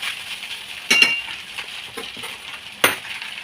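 Chili, turmeric, coriander and cumin powders sizzle softly in a pan while a spoon stirs them, with two sharp metallic clinks of the spoon against the pan about two seconds apart over the steady frying hiss.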